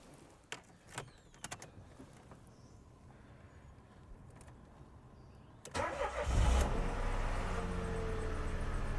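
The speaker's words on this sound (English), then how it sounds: "Let's start the car now." A Dacia Sandero Stepway II with a 0.9 TCe engine cranks and fires up after a few quiet clicks, then settles into a steady, close idle that continues to the end.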